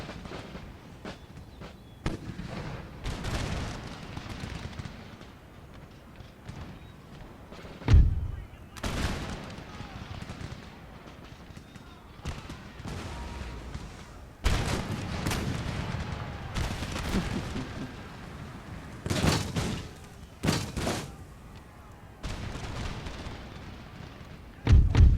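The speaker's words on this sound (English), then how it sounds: "Keep firing, lads, don't give them anything at all." Musket volleys and cannon fire from a battle in Empire Total War, with repeated booming blasts and crackling gunfire bursts at irregular intervals over continuous battlefield din, with some talk mixed in.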